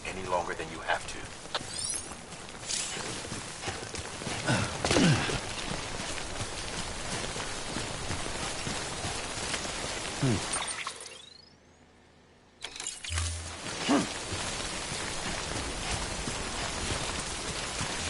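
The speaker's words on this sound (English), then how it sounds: "Don't stay out in the rain any longer than you have to." Timefall rain pours in the video game Death Stranding, a steady hiss and patter under talk, briefly cutting to near silence for a couple of seconds before the downpour returns.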